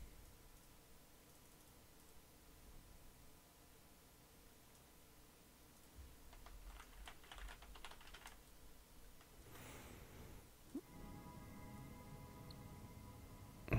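Typing on a computer keyboard during a Heroes of the Storm game session, soft rapid key clicks in a quiet room, faint and close, followed by a rustling burst and a steady electronic tone near the end.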